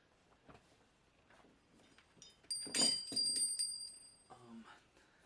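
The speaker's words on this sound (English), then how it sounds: "It actually has a bell on it, the Liberty Bell" Small Liberty Bell replica on a Philadelphia Marathon finisher's medal, jingled in a quiet room: a brief cluster of thin, bright metallic rings that fades quickly, with light handling noise around it.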